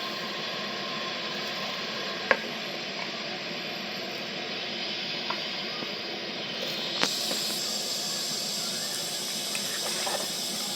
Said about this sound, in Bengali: দেখুন জলটা আমার গরম হয়ে গেছে ফুটছে